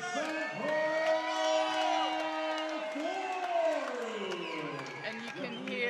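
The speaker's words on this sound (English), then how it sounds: "And you can hear the crowd excited for Martin, just as we are, the home fighter" Crowd at a professional fight in West London cheering and whooping for the home fighter, a loud, sustained roar with a clear announcer's voice talking over it throughout.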